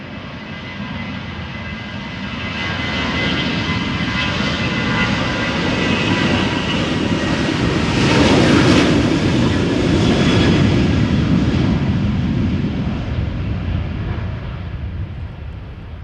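A Cathay Pacific Airbus A350-1000 departing Amsterdam Schiphol, a loud broadband jet roar that swells to a peak midway, then slowly eases off as the aircraft passes, with no voices.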